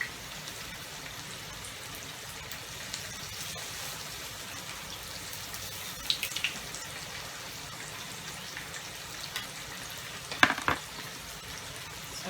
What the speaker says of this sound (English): So we're gonna let that go fry.